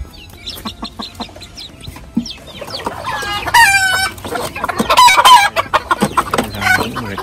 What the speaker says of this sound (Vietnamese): Gà tre này nó giống gà cha gà má nó đây, gà cha gà mẹ, một con gà rất là đẹp.